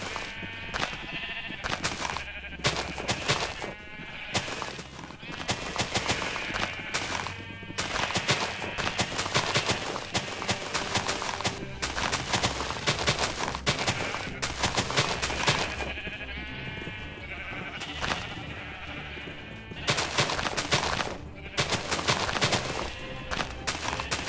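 Sheep bleating repeatedly in the Minecraft video game, mixed with bursts of explosions and rapid blasts from a mob farm being blown up, loud and busy throughout.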